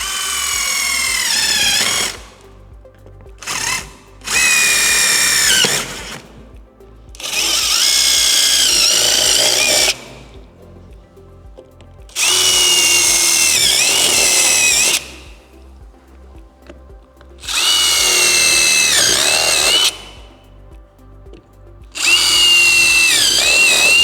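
A power drill bores guide holes for a jigsaw cut while fitting speakers to a 1998-2013 Harley-Davidson Street Glide, loud whining bursts of a few seconds each, separated by short pauses, close to the microphone with no talking.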